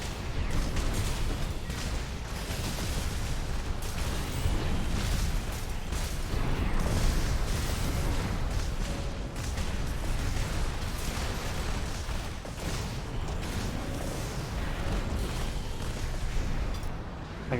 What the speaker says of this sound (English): Watch out for the missiles.